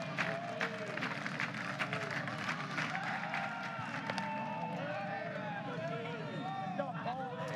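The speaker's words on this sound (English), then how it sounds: "Great crowd on hand on this late Saturday night." Dense, steady crowd noise fills a packed ballpark on a late Saturday night as Sooner fans react during the UConn vs. Oklahoma Norman Regional baseball game, with a bright cheer rising over the constant hubbub throughout.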